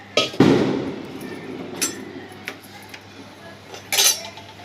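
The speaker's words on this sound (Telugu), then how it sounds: "ఆ గిన్నెలో టమాటా ముక్కలు వేసుకున్నాం." Chopped tomato pieces tip into a pot on a lit gas stove for tomato pachadi, landing with one close, heavy thud followed by a few sparse metallic clinks and taps.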